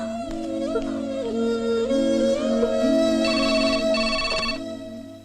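A phone rings with a repeating electronic tone pattern, loud and close, continuing for several seconds before cutting off.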